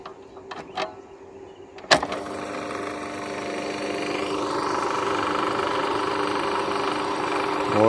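A sharp click, then a farm water pump motor starts up and runs with a steady, continuous hum and whine that holds to the end.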